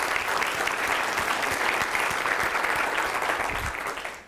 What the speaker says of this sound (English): why don't we give a healthy round of applause to these students?